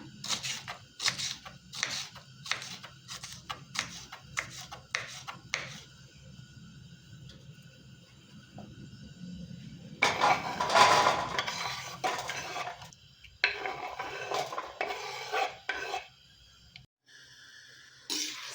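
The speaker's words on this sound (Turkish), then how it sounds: "şöyle bir küçük ara verdim biberlerimi doğruyordum" A knife taps rapidly against a cutting board in quick regular strokes chopping hot peppers, pauses, then resumes with clattering cuts and a few clinks nearby.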